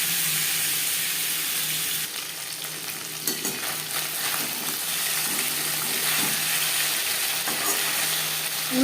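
Live stinging catfish frying lightly in a pan, a steady close sizzle with faint bubbling and occasional soft stirring or turning noises throughout, no voices.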